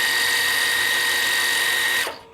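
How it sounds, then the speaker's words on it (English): Juki TL18QVP sewing machine winding a bobbin, a loud, steady high-pitched motor whir at close range that runs for two seconds and then spins down. "when I step on my foot controller, I'm winding the bobbin"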